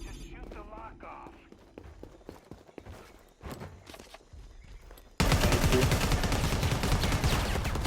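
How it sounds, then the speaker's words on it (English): Gunfire in the video game Predator: Hunting Grounds, a few scattered shots amid game ambience and talk, then a sudden loud, dense burst of sustained fire through the final seconds. "Just shoot the lock off."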